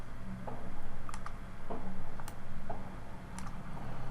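Mouse clicks and keyboard shortcut taps while modelling in Blender, marking seams on a 3D model: scattered sharp, light clicks in small irregular clusters over faint room hum.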